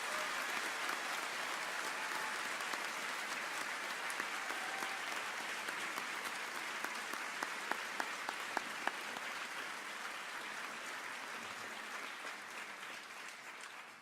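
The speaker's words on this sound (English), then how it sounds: "Please join me in a round of applause for these students." Sustained audience applause at a college convocation honoring graduating students, a steady dense wash of many hands clapping throughout, fairly distant and even, with a few sharper nearby claps standing out partway through.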